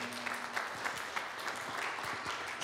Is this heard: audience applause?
yes